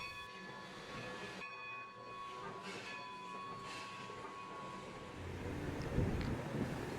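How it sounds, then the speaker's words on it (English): Excursion train number 40 backing down a rail yard, a rumbling, clanking train passage with faint high whistle-like tones early on and heavier low-frequency rolling noise building toward the end, moderately distant. "The train has to back down to the end of the yard to get out on the main line."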